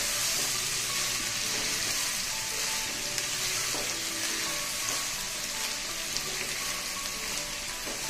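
Cauliflower curry fries in a pan with a constant, dense sizzle, close and loud throughout with no talking.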